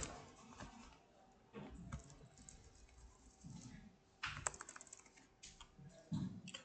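Quick, uneven bursts of keystrokes on a computer keyboard as JavaScript closure code is typed, close and fairly quiet, with pauses between runs of clicking and no talking.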